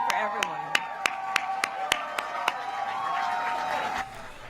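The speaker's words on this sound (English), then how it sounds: "Yeah, clap into the mic." A small audience claps into a microphone, producing about a dozen sharp, evenly spaced claps that are close and distinct, then fade into a murmur of background noise.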